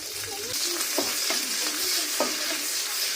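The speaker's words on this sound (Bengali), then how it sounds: "এখন গরম তেলে দিয়ে দিচ্ছি রসুন কুচি কাঁচামরিচ কুচি" Chopped garlic and green chili hit hot soybean oil in a pan, giving a steady, close sizzle broken by a few spoon-stirring scrapes throughout.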